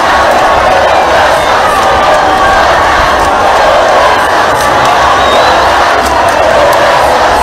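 A euphoric crowd lines both sides of a street near a roundabout, cheering in a loud, continuous wall of voices and shouts with occasional whistles and sharper cries standing out.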